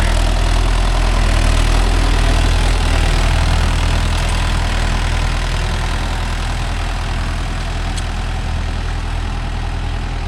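A Mahindra Yuvo Tech Plus 585 4WD tractor engine runs steadily and loud up close with a deep, constant rumble, pulling a five-tine cultivator through a field.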